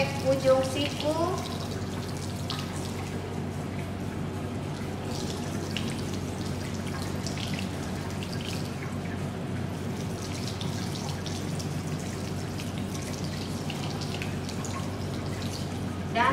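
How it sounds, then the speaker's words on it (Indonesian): Tap water runs continuously while hands are rinsed from fingertips to elbows in a clinical handwashing routine, a steady splashing flow with someone speaking over it. "kita bilas tangan dari ujung jari sampai ujung siku"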